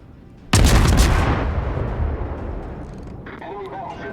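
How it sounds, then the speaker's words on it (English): Heavy warship gun battery firing in World of Warships: one loud, sudden booming salvo with a long rolling decay, followed by fainter metallic game sounds. "He's going to continue to fire his guns."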